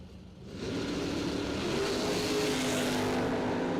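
A pickup truck and a Corvette Roadster launch side by side in a drag race, their engines surging loud and sustained after a brief quieter start, with a rising roar that holds steady to the end.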